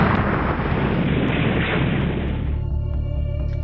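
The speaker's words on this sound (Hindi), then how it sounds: "सुरक्षा बलों ने कार को दबोच लिया और उसे धमाके से उड़ा दिया।" A car packed with explosives is blown up by security forces at Pulwama, giving a loud, sustained rumbling blast that fills the clip and then fades into a lower roar.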